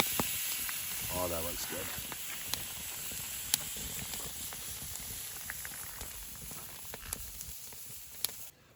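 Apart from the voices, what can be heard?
bison tomahawk steak sizzling on a grill after being flipped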